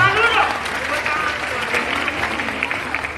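Applause from a crowd at a campus event fills the space, a moderate, steady clatter of clapping with talk and crowd voices over it.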